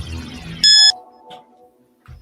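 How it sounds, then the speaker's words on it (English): A shot timer buzzer sounds at the start of a long-range shooting podcast: one loud, flat electronic beep about a quarter-second long. Room noise and low voice murmur come before it, then a fading hum and the start of talk. "The buzzer never ceases to amaze me."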